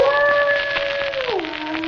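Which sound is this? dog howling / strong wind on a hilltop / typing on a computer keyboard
dog howling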